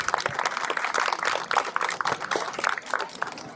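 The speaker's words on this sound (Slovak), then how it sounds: "poprosím potlesk pre pani starostku" An audience applauds the mayor at the Drieňovská Heligónka 2024 event, a dense, steady wash of clapping from many hands at moderate distance with no voices over it.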